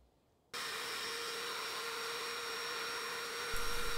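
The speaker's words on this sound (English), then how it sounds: "Just for good measure, I gave it a final clean up on the surface grinder." A surface grinder starts abruptly and runs on as a steady, loud whine with a hum beneath, finishing a bored engine cylinder. No voices are heard.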